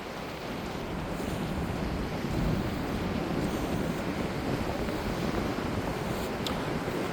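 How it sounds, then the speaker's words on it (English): North Atlantic surf breaking on a shore, a steady rushing wash of waves with gusty wind buffeting the microphone and no voices. "looking at the waves"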